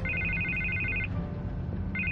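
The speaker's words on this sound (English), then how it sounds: "I can't get the phone to stop ringing." Electronic telephone ringtone from the Batman Telltale video game, a steady trilling ring that sounds for about a second, stops, then starts again, over a low background hum.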